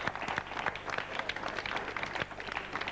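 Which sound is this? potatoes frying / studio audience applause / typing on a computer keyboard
studio audience applause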